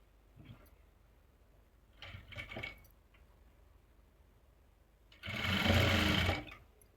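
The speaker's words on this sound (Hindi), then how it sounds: "अब ऐसे ही हम बैक को भी स्टिच करेंगे।" Sewing machine stitching the back seam of a dhoti salwar, a loud steady whirring run of about a second near the end, after brief soft handling noises and no talk.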